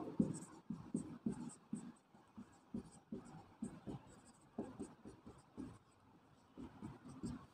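Marker or chalk writing on a board while a geometry problem on surface area is solved, with close, quiet strokes and taps in irregular bursts, pausing briefly between words, with no speech.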